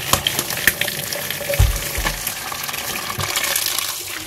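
Tap water runs and splashes steadily as bean sprouts are rinsed in a kitchen, with small clatters and handling noises over the flowing water.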